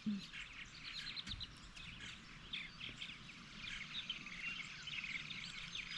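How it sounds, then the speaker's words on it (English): Many purple martins chirping and chattering high and busy at once, a continuous lively flock calling from a short distance over a quiet outdoor background. "There's a lot of purple martins over there."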